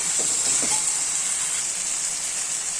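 A masala mixture with fresh mint sautés in a pan, giving a constant, fairly loud sizzling hiss that holds steady throughout with a few faint clinks early on.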